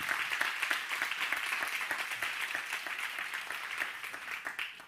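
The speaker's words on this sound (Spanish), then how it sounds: "Un aplauso para ella." Steady applause from a crowd at an award ceremony, many hands clapping continuously at an even level for several seconds, with no voices standing out.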